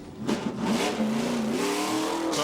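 A stock car at a 1997 NASCAR Xfinity Series race at Hickory Speedway pulls away, its engine revving and climbing steadily in pitch as it accelerates, loud and close, with no talk over it.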